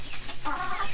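Polish chickens cluck and murmur inside their coop, a few short close calls overlapping in quick succession with no voices.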